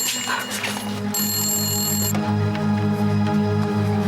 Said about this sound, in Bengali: ফোন বাজছে